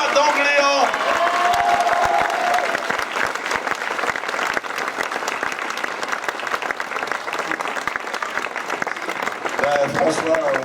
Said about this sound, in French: je vous demande d'applaudir très fort François d'Angléan